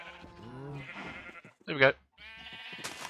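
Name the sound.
sheep bleating in a video game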